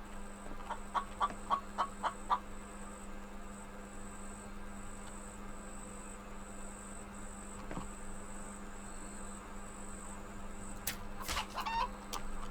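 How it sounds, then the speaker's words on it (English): A chicken in a video game clucks in a quick run of six or seven faint, evenly spaced clucks, then goes quiet over a steady background hum, with a few more faint sounds near the end. "Where the hell's this damn chicken?"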